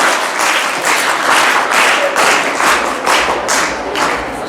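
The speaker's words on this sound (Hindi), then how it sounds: "बच्चे एक बार जोरदार तालियों से बहन जी का स्वागत करें" Children at an Arya girls' gurukul camp in India applaud loudly to welcome a guest, producing dense clapping that swells in rhythmic waves, close and sustained throughout.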